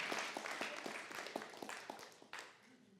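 A church congregation claps together in a quick, scattered burst of applause that fades over a few seconds, with a slight murmur beneath.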